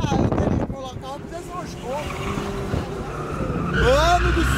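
A Land Rover drifting on a race track, its tires squealing in rising and falling chirps with engine noise underneath, growing louder toward the end while people talk excitedly inside the vehicle.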